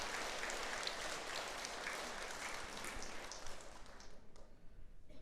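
A temple audience applauds the Mahabodhi choir at a Buddhist dharma service: dense, rain-like clapping that holds steady and then thins out toward the end.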